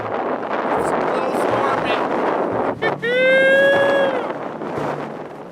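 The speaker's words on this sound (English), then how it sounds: "Gusts to 45 miles an hour." Strong gusts of up to 45 mph batter a snowy Grand Canyon trail, producing a continuous roar of wind buffeting the microphone. Partway through, a brief dip is followed by a whistling, rising tone over the rush.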